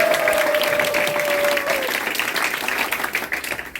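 Audience applause at a political party youth committee launch ceremony, a dense, loud round of clapping from a crowd that gradually thins toward the end, with a brief tonal whistle-like feedback tone early on.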